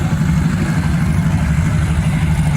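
Diesel pickup engine in the 2WD truck class at a county fair truck pull, a loud, steady deep rumble that holds constant throughout without clear revving.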